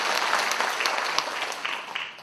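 An audience at a housing managers' day debate forum applauding a guest coming up, a dense, even burst of clapping, loud and continuous throughout, with no talking.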